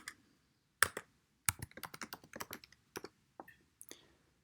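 Short bursts of computer keyboard keystrokes, several quick taps in uneven clusters with gaps, close and fairly clear, as a formula is typed into an online graphing calculator.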